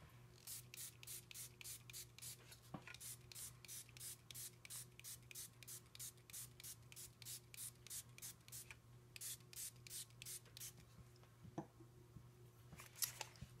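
A spray bottle hisses water onto paper in quick repeated bursts, close and crisp, in short runs with brief pauses between, over a low steady hum.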